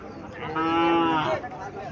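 A single deep, drawn-out moo from a black Sahiwal bull, close and loud, rising and holding for about a second before fading.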